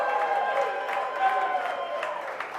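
A lively live studio audience applauds and cheers to welcome Kansas City Chiefs punter Matt Araiza, a dense, steady wash of clapping and crowd noise throughout, with a host's voice talking over it.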